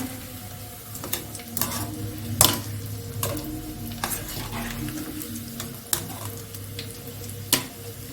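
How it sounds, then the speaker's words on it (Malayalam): Shallot pakoda frying in hot oil, a continuous crackling sizzle close by with several sharp clinks and scrapes of stirring at irregular moments. "ഇപ്പം എണ്ണ ചൂടായിട്ടുണ്ട് നമുക്കതിലേക്ക് ഇതേ രീതിയിൽ വേണം നിങ്ങൾ ഉണ്ടാക്കിയെടുത്തിട്ട് എണ്ണയിലോട്ടിടാൻ"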